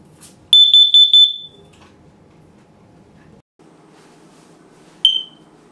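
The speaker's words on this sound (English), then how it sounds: "That's your smoke detector telling you to change the battery." A household smoke alarm gives a short series of shrill high beeps, then falls quiet before one more single chirp, the low-battery warning ringing out over a faint room hum.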